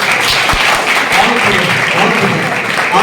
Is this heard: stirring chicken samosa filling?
no